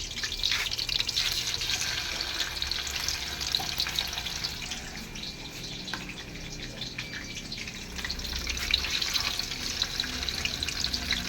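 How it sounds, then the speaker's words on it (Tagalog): Steady broadband sizzle and crackle of tofu frying in hot oil, continuous and close, with faint watery hiss throughout. "kailangan po muna kasing iprito yung tokwa"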